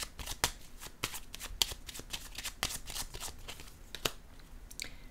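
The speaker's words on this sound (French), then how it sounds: "Je vais déposer une carte ici." Tarot cards are handled and laid down, giving soft, close flicks and snaps in an irregular rhythm, quiet and alone.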